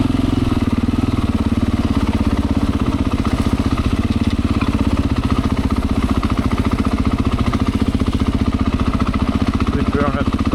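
A Beta 500 motorcycle idles steadily while being pulled along, its close, loud engine putting out an even, rapid low thump that holds for the whole stretch.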